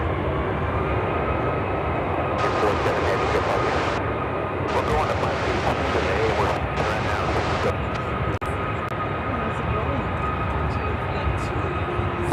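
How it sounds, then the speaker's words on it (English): A heavy China Airlines Cargo jet arrives at Chicago O'Hare from Osaka on runway 10 center, a steady broad roar of engines rising and swelling, with radio-like voices talking over it. "China Airlines Cargo 5142 coming in from Osaka."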